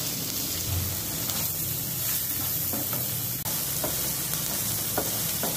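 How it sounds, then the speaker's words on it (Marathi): Finely chopped onion sautéing in oil with mustard seeds and green chillies for a raw banana vegetable dish, a steady broadband sizzle with soft scraping stirs throughout, close and even in level. "आता बारीक चिरलेला कांदा घालणार आहोत आणि व्यवस्थित परतून"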